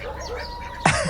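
A chicken gives short clucking calls, with one louder, sharper squawk near the end, fairly close and otherwise alone.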